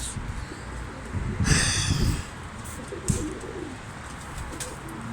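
Pigeons coo in low, soft bursts over a steady background hum, with a brief rustle and a faint thump partway through.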